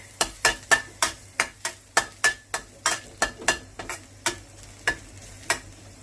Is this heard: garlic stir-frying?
yes